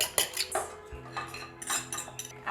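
A spoon or whisk clinks and scrapes against a bowl while milk, sugar and salt are mixed, with scattered light metallic taps and rattles close by and no talking.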